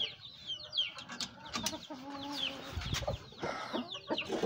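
Hens and a rooster cluck on a farm, busy overlapping clucks and calls close by with scratching and rustling between them.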